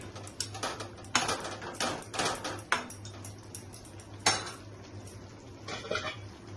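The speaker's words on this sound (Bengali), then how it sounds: "আমি তাহলে আবার সেকেন্ড টাইম খুলে নিচ্ছি ঢাকনাটা" A lid is lifted off a pot of mutton kosha, giving a series of close metallic clanks and scrapes, several sharp knocks scattered over a quiet background hum, with no speech.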